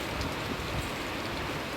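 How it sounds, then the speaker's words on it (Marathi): Steady, dense rain pattering on a surface, a constant hiss with no pauses or voices. "आज आमच्याकडे पाऊस पडतो मस्त असा गार वारा सुटला आहे"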